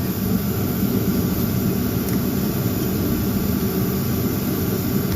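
An 11HP Briggs & Stratton engine is cranked over by a newly fitted starter, giving a loud, steady mechanical whirring drone that holds unbroken for about five seconds with no talking.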